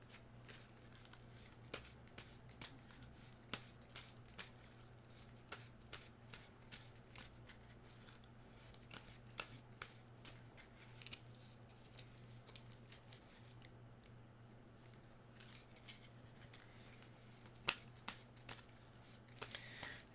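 Cards for the Final Girl board game are shuffled by hand in a quiet room, a long run of soft riffling and tapping flicks repeating with irregular rhythm.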